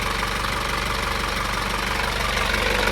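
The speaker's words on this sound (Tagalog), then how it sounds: "Check natin engine." A backhoe's diesel engine idling with a steady, loud, rough rumble and rapid rhythmic knocking, heard close up and continuous with no talk.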